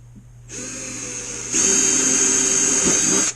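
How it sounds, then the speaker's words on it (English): A power drill whirs up, then bites in at higher pitch and louder as it bores a hole while installing a shaft tube in an RC gas boat, running steadily for a couple of seconds before stopping. "I drill one hole fairly fast"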